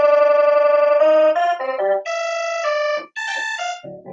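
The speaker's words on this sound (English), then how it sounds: "Listen to that organ sound." Organ voice on a Rock Jam RJ761 electronic keyboard plays sustained, buzzy tones stepping through a short melody of held notes and chords, close and clear with no one talking.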